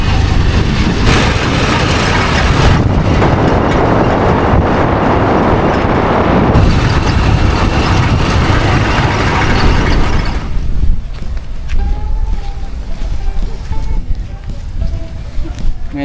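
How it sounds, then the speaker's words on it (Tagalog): Riding in a motorized tricycle, with a steady loud engine and road rumble filling the first ten seconds before easing to a quieter idle-like drone with faint voices. "Ngayon po, nandito na tayo sa tricycle."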